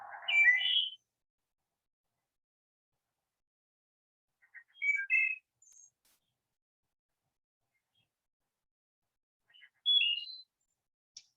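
Wood thrush singing from woods across a road, brief bright fluting phrases spaced several seconds apart, clear and fairly close against an otherwise silent background.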